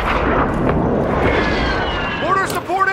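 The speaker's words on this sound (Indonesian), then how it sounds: "Mortar support incoming." Mortar strikes in Warzone 2 during a Halloween night-mode match land as a loud, continuous barrage of booming explosions, with voices talking over it and a few whistling descending tones near the end.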